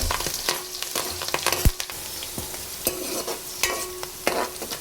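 Onions fry with curry leaves in a pan for fish pulusu, a busy close sizzle punctuated by frequent spatula scrapes and knocks as they are stirred.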